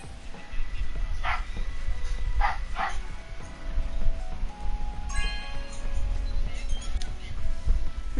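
A dog barks and yips in the Scarlet Nexus video game, a few short bright barks and a whimper over steady game background sound and faint clinks.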